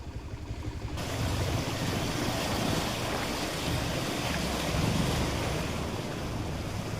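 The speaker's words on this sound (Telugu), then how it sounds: "పలుచోట్ల రోడ్లపైకి వరద నీరు చేరింది" Floodwater rushes steadily over roads in the Alluri district agency area after overflowing streams and a rising Sabari river. The roar is a loud, continuous wash with no pauses or voices.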